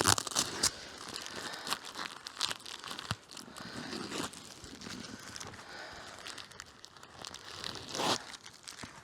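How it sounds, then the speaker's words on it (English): Plastic film being peeled and torn away from cardboard, close and fairly quiet, with repeated crinkling and sharp tearing bursts in irregular bursts as the sheet comes free. "there's masses of cardboard here, but I need to peel all the plastic off it"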